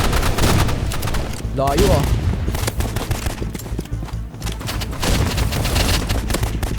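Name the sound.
gunfire from video game Roblox Rivals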